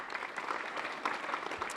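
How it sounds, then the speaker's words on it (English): An audience at a county honors event gives a round of applause, a moderately faint, sustained clapping from many people with a few sharper individual claps standing out. "So let's have a round of applause for them."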